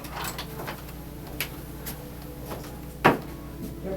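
A door swings shut indoors with one sharp, close thud near the end. Quieter rustles and small knocks come before it.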